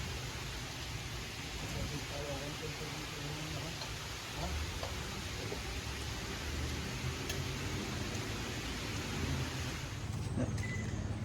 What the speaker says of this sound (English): And it is raining.